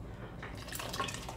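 A small splash of water poured into a pot of cooking butter rice to top up the broth, a soft, close trickle with faint drips and no talk.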